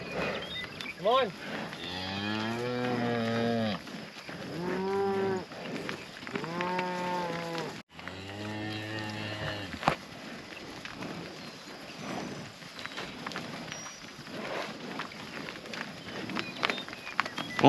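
Cattle, cows with their calves, moo repeatedly at close range while being moved through a pasture rotation, long harmonic bellows overlapping in the first half, then a busier stretch of shuffling movement and scattered calls.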